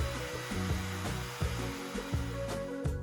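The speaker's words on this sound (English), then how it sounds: "The router is a handheld tool, some people call it a palm router" A handheld palm router runs close by for a table saw and router table built on an aluminum extrusion frame. It makes a steady, high motor whine with slight pulsing, and nothing else is heard.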